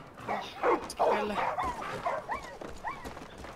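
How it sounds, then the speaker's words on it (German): Dogs in the video game Far Cry 5 yip, bark and whimper in short excited bursts, several close calls overlapping while someone talks over them. "Hunde, beruhigt euch doch mal endlich."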